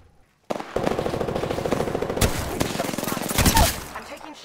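Rapid automatic gunfire from an Apex Legends firefight bursts in after a brief silence, dense and continuous bursts with sharp impacts layered over a loud, chaotic battle mix.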